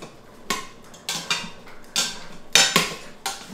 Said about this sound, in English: We're gonna stir that up.